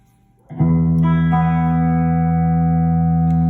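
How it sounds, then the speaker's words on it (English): A sustained guitar chord processed through the harmonic tremolo effect of an Ecto1 Octameter Spectral Workstation pedal, ringing loudly and steadily after a soft start. "And then this is the rate for a harmonic tremolo."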